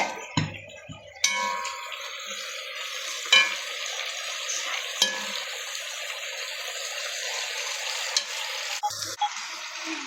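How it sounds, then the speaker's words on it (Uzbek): Potatoes sizzling in hot oil in a pan as a steady loud hiss, with a spatula scraping and clinking against the pan several times throughout. "Mana kartoshkamizni ham qovurib oldik."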